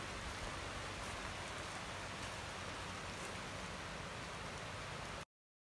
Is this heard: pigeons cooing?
no